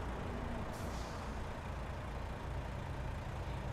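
A Peterbilt truck idles in a truck driving game, a continuous heavy engine rumble with a sharp air brake hiss near the start, close and steady.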